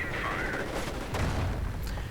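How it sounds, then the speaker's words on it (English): Gunfire in a World War II strategy game battle, with a sustained rumble of shots and distant booms and several sharp cracks standing out over the din. "Sniper fire."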